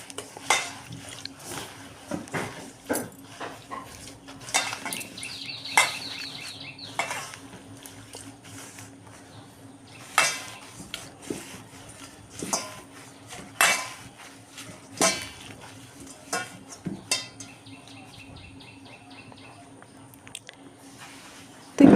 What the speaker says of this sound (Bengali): এখন অল্প লবণ দিয়ে পাতাগুলোকে মেখে নেব মেখে রেখে দেবো